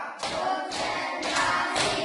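Students in a classroom clap together in a counted clapping exercise, four crisp, evenly spaced group claps about half a second apart, close and clear.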